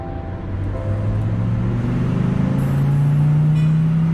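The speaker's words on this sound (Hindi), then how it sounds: "पर रास्ते में आगे काफी ज्यादा ट्रैफिक जैम लगा हुआ था," Road traffic stuck in a heavy jam: a steady, loud engine rumble with a low hum that rises slightly in pitch, continuous throughout without voices.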